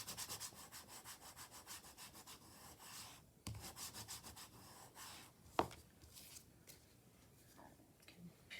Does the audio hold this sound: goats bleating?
no